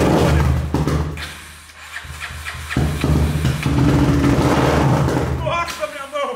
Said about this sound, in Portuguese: é porque a moto vai ligar